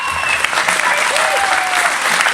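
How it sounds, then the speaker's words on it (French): Concert audience in a hall of about a hundred people applauding festival volunteers, a dense continuous clatter of clapping with scattered cheers and voices within it. "Applaudissez-les très fort."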